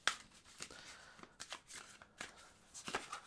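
Soft, close riffling of oracle cards being shuffled in quick, irregular bursts, quiet and intimate with no one talking.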